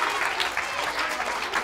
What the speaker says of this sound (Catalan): Un aplaudiment per al públic!